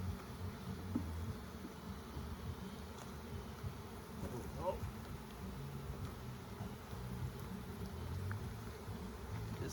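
Honey bees hum during a beehive inspection in Ontario. The buzzing is a faint, continuous drone that swells slightly now and then, with no clear voices.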